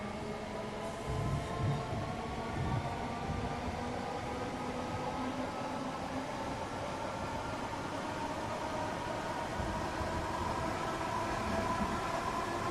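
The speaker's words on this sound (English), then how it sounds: "I don't know if this train has had new sounds." A continuous rumbling in-game train in Train Sim World 3 on PS5, heading to Stone Crossing, with a steady mechanical drone and faint whining tones, holding a constant level throughout with no voices.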